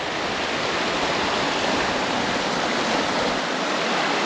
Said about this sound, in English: Down by this little waterfall here in the Lake District